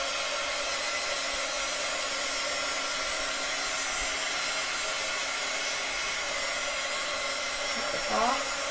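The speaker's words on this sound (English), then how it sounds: "try to heat dry that a little" Heat tool blowing steadily to dry Distress Oxide ink, a constant close whirring hum with a high airy whine, unbroken until a brief bump near the end.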